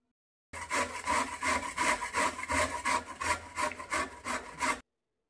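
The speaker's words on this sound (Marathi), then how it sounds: "आता ह्या किसणीनं पूर्ण गाजर किसून घेते" Carrots being grated on a large grater for gajar halwa make a loud, rhythmic, raspy scrape. About a dozen even back-and-forth strokes run steadily, with no voices.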